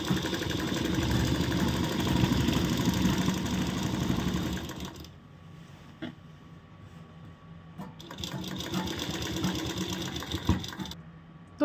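Sewing machine stitching a salwar belt, a continuous close whirring run that stops briefly and then starts again.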